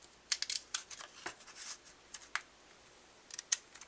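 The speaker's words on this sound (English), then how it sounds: "we can just trim that off too." Scissors snip card paper for an Easter card in a series of quiet, close, crisp cuts, some quick clusters and a few isolated snips with brief pauses between.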